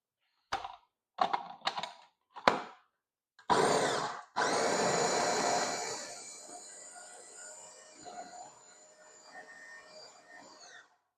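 Sausage filling of ground meat, rehydrated dried shiitake mushrooms and a whole chopped onion churned in a mixer for homemade Italian sausages, starting with a few short bursts and then running as a steady, close whirring drone that slowly fades.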